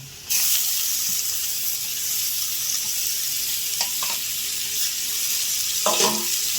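Bottle gourd pieces sizzle steadily in a hot pan for a sweet gourd pudding, a broad constant hiss with a few soft stirring scrapes and clicks, fairly close and loud, no voices.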